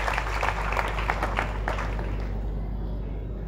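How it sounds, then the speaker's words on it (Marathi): Applause from an audience for the organisers of a Navratri shopping festival and agricultural exhibition, moderately loud at first and then fading away into a low steady hum. "एकदा जोरदार टाळ्या या सगळ्या आयोजकांसाठी मी करतो"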